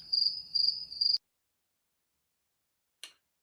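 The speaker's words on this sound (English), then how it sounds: "More crickets." Three quick bursts of high cricket chirps from a sound effect pulse in a regular rhythm, then silence, then one short faint click near the end.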